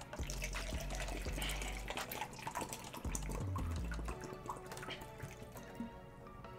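Liquid, most likely water, trickles and drips close by in an indoor setting, with steady dripping under a busy room tone and no talk.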